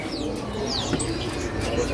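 Birds in a bird kiosk, including Sumatran birds, give steady cooing and chirping calls close by throughout, with people talking over the calls.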